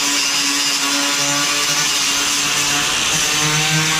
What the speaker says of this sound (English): I'll show you how to take this old sealant off here with this wire wheel.